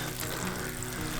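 A water jet washer whose insides were gunged up with algae jelly gives a steady, broadband hiss of spraying water that holds evenly for just over a second.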